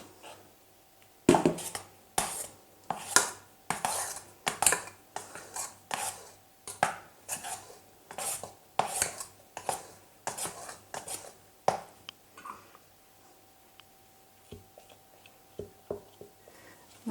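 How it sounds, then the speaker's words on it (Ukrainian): Repeated dull thuds and knocks as cheese Easter bread dough is kneaded in a pot, roughly one or two per second, close by, slowing and thinning out near the end, with a faint hum underneath. "І тепер потроху додаю в каструлю і замішую тісто."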